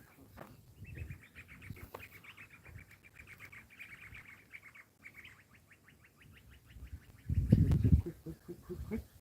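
A bird at a campsite gives a long rapid series of high chirps, moderately near, repeating in an even trill for several seconds, with faint low background noise and a louder thumping burst toward the end.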